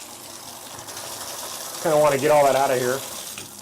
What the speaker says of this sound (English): first rinse all the dirt out in the tub that's here